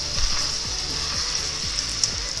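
A bone-in cowboy ribeye steak sears in a hot grill skillet, giving a loud, steady sizzle and crackle with occasional scraping and clicking nearby, and no one speaking.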